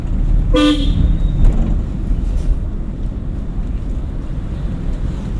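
A single short car horn toot from a vehicle behind sounds early on, over steady road rumble and wind noise from a moving driving-school car.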